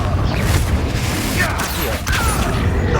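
A Confringo fire-blast spell explodes during combat in the video game Hogwarts Legacy: a loud, dense, rumbling crackle that runs through the whole stretch, with sweeping whooshes and a brief dip before the blast noise surges back.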